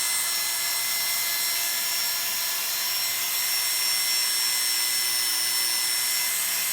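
A Classic 76 electric hair clipper with a 3 3/4 blade hums steadily and continuously while cutting a man's hair against the grain, a constant close buzz with no pauses.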